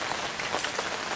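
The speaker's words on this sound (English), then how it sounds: "it's pretty rainy day, or rainy evening" Steady rain falls through a rainy evening, a dense, even hiss that holds at moderate level for the whole moment with no voices.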